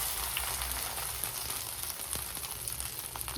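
Dry fruits frying in ghee while festival prasadam is being prepared, giving a steady, close, even sizzle that continues without pause and with no voices.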